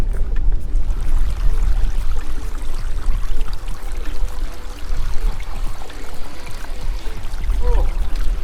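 A rushing, gurgling boat toilet flush fills the space, steady and fairly loud for several seconds, with no voices over it.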